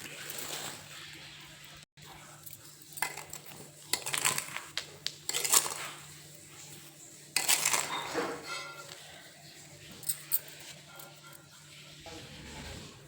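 Three kilos of sugar poured and scraped into a pot of amla (Indian gooseberry) in a home kitchen, giving bursts of granular rushing and metallic clinks of a vessel and spoon, moderately close with quieter gaps between.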